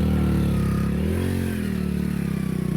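An off-road motorcycle engine runs at a steady, throbbing idle close by during a rainy off-road ride, with a faint rising and falling rev and some light clatter.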